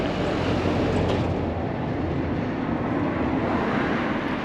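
A camera drone hovers overhead, a steady loud broadband whir with a strong low drone, constant and unbroken throughout with no voices.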